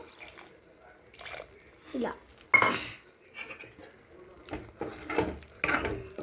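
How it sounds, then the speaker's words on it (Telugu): A glass of water is poured into a pan of chicken curry amid clinks and clatter of pots and utensils, with one brief splashy pour standing out and a voice talking around it. "నేను ఒక గ్లాస్ వాటర్ వేసుకుంటున్నాను"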